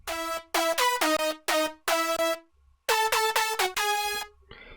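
Layered future bounce synth leads from FL Studio play a bouncy melodic phrase of short and held stabs with brief gaps, ending in a noisy burst, heard alone at moderate volume.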